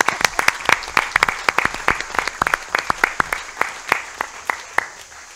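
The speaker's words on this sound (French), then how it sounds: "Je pense qu'on peut les applaudir." Attendees at a French town council meeting give a burst of irregular clapping, many sharp close claps over a few seconds that gradually thin out toward the end.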